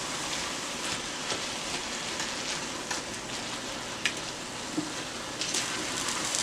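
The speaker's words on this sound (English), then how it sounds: "And I'm just going to continue to let it fry." Malanga coco bitter balls fry in oil on a stove set to medium-low, giving a steady, even sizzle and crackle with scattered sharper pops, close and moderately quiet, with no talk.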